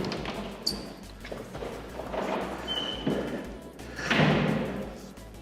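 Parking cellar door in a Paris apartment building: a metal door handled with thumps, clunks and a scraping swing, ending in a louder heavy thud near the end, close and echoey.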